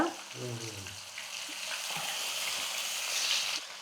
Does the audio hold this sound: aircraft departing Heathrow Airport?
no